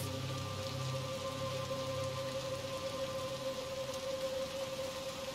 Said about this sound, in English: Why is it still raining though?